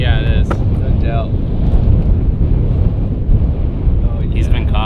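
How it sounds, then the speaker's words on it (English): Strong wind buffets the microphone on a lake during bass fishing, a loud, continuous low roar that fills the whole clip, with brief voices cutting in near the start and end. "Crazy windy."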